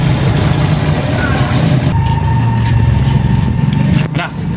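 A Toyota Vios engine starts up after a spark plug change and settles into a steady idle, loud and close in a garage, with voices talking over the running motor.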